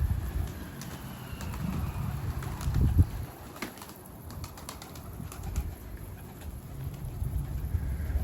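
Pigeons coo softly while being fed near a loft rooftop, low murmuring calls with occasional wing flutters and faint clatter, close and steady without talk.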